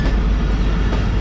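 The Shalimar Express passenger train rumbles along the rails, a loud, steady roar heard close from inside the carriage.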